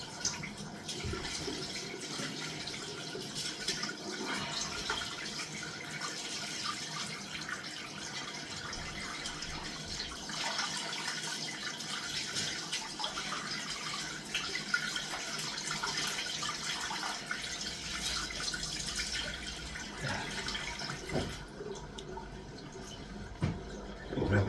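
Tap water runs steadily into a bathroom sink during a morning face wash before a head shave, a continuous close splashing hiss that lasts the whole stretch with no voices.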